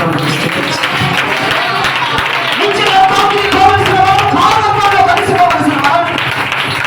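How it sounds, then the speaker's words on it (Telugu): Church congregation at Sunday worship clapping together, a dense wash of applause that swells in the middle, heard alongside a voice. "గట్టిగా చప్పట్లు కొట్టి"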